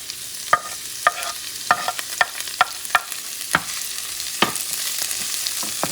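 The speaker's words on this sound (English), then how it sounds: "Now that it's melted, you're going to add your onions and peppers." Onions and peppers sauté in melted butter in a pan, a low steady sizzle with a run of crisp spoon scrapes and taps at irregular intervals, close by and with no talking.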